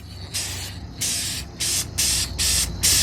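Spray can laying light coats of a cheap rust treatment onto a rusty car door, five or six separate hissing bursts of about half a second each with short pauses between, close and fairly loud.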